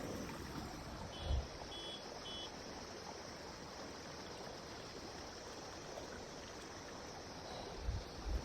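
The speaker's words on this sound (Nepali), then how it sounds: "कहाँ पानी बगेको त छ" A stream flows beside a hillside path in the Nepali hills, giving a steady, dense rush of water throughout. A couple of soft low thumps break the even flow.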